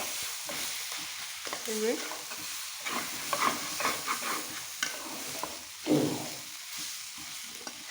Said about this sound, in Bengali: দিয়ে দ্রুত নেড়ে নেবেন, নাহলে আঠা আঠা হয়ে যাবে। সুন্দর করে নেড়ে মিশিয়ে নিচ্ছি।